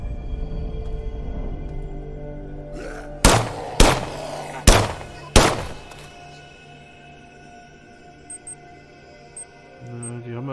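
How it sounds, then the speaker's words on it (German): Four sharp, loud gunshots fired a little under a second apart in the System Shock demo, each with a short decaying tail, followed by quieter ambient hum and faint mechanical sounds. "Die letzten Schüsse, die wir jetzt haben hier."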